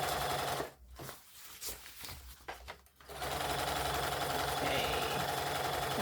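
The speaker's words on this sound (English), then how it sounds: "do a roll hem on the bottom of the ruffle on my serger to get that nice finished edge" A serger overlock machine sewing a rolled hem along a fabric ruffle, running in a loud steady whir, pausing briefly in the middle with a few stutters, then running continuously again.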